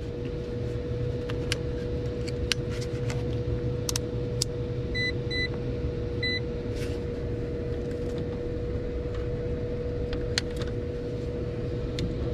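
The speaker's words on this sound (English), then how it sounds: "the blower motor just came on" Blower motor of an ICP HVAC package unit with no heat kit running steadily, a constant hum and whir with a fixed tone, punctuated by scattered clicks and a few short electronic beeps.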